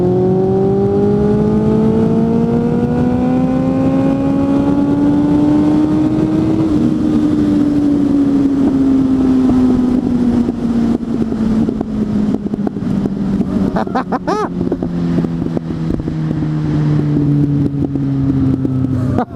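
A Suzuki GSF 600 N motorcycle engine, loud and close, climbs steadily in pitch as it pulls hard, then eases into a long, gradually falling drone, with a brief rattle of mechanical noise near the end.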